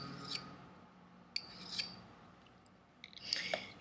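A knife blade drawn across a ceramic sharpener, giving a few separate, faint, high-pitched scraping strokes with quiet pauses between them.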